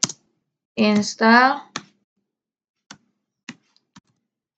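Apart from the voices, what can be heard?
typing a command on a computer keyboard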